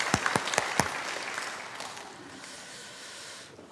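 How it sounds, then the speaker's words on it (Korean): Church congregation applauding together during a Sunday anniversary worship service, opening with a few sharp distinct claps that swell into steady dense applause, then thin out and fade near the end. "우리 하나님께 영광과 감사의 박수를 돌리겠습니다"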